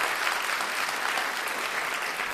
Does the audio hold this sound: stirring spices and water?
no